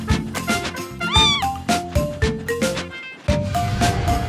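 Several cats meow in quick succession, close and fairly loud, with rising and falling cries overlapping one another.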